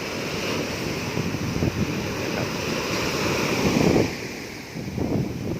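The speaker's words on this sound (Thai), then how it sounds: "คลื่นซัดสาด" Sea waves surge and crash steadily onto a rocky beach at Hat Khae Khae on the Gulf of Thailand, a continuous loud roar of surf with a swell building near the end, mixed with wind noise and no voices.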